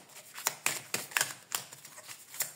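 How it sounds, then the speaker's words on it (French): Cards handled while drawing from a deck for an astrology reading, a string of soft, close flicks and shuffling snaps in irregular rhythm, quiet and without talk. "je vais vous tirer une dernière carte"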